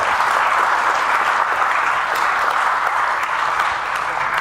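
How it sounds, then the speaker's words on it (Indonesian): A large audience at a government speech on state-owned enterprises bursts into loud, dense, continuous applause that holds steady throughout, with no speech over it. "ini boleh tepuk tangan dong, tepuk tangan."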